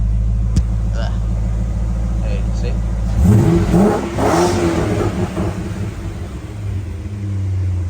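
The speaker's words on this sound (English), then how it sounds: "I think this time I'll give it a bit more of a rev and we'll actually see what it goes to" Holden VT Clubsport with a 5-litre V8, idling with a low steady rumble before a loud rev climbs and swells, then settles back to idle; someone speaks briefly near the start.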